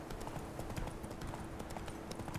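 Rhythmic clip-clop of horse hooves trotting steadily in The Witcher 3: Wild Hunt, fairly close, with a constant background hum and no voices.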